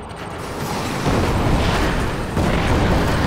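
An explosion in the Command & Conquer 3 Tiberium Wars campaign, a dense rumbling roar that swells and holds with crackling debris, loud and continuous without talk.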